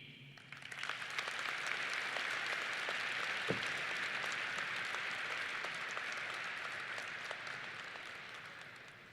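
Sustained applause from the audience at a 2021 graduation commencement ceremony, a dense, steady wash of many hands clapping that fills the whole stretch without spoken words on top.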